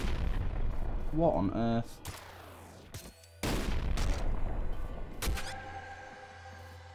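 A sniper shotgun fires in the roguelike video game Nuclear Throne. Several sharp, punchy blasts ring out among game effects and electronic tones, and someone speaks briefly between the shots.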